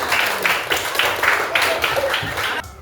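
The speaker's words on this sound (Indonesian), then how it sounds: "Tepuk tangan" A class of schoolchildren claps in unison, a rhythmic run of about eight evenly spaced group claps that stops abruptly, close and fairly loud.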